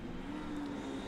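Race car fitted with a 1200cc motorbike engine at a circuit race, a steady droning engine note held at a fairly constant pitch over a short stretch, moderately distant and without talk.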